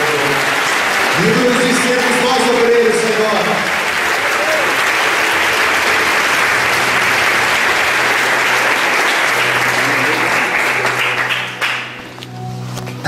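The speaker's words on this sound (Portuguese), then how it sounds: "Dá uma salva de palmas a ele." Loud, sustained applause from a church congregation for a preacher fills the space, while someone speaks over it, then the clapping thins and fades near the end.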